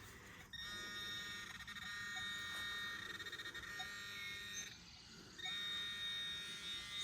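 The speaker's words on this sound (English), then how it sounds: "It might be worth just stirring around with a pin pointer right here for a while." A metal detecting pinpointer in muddy ground gives a faint, steady high-pitched electronic buzz with warbling tones that break off and resume several times, heard alone at low level.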